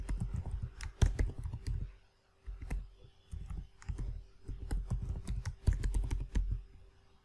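Someone types a new password on a computer keyboard in Windows 11, quick clusters of key clicks separated by brief pauses, close and fairly quiet.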